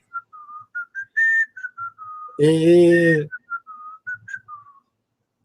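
A clear, melodic whistled tune with a brief louder burst in the middle, under and between short spoken remarks.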